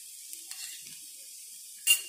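Ginger garlic paste sizzling in a pan while a Spanish omelet is cooked, a steady soft hiss with a few faint stirring touches and a brief sharper burst at the end.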